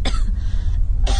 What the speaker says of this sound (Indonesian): suara orang batuk-batuk itu sepertinya terdengar dari lantai bawah